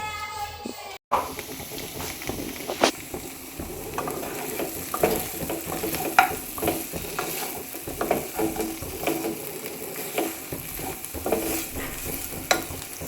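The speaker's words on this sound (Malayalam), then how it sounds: "ചിക്കൻ ഫ്രൈ ചെയ്യണം" Chicken frying in a pan in a home kitchen, a low steady sizzle with occasional stirring scrapes and clicks, fairly quiet, with some background talk.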